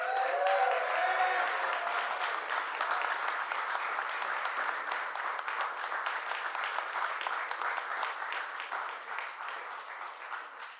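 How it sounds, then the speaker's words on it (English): A crowd gathered for NALC national officers and business agents at a postal union event breaks into sustained applause. The clapping is dense and steady for about ten seconds, with a few cheers early on before it slowly tapers. "How about a round of applause for them?"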